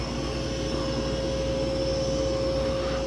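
A Mova P10 Pro Gen 2 robot vacuum runs on quiet mode over carpet, giving a steady, even motor whir with a thin high whine, with no voices.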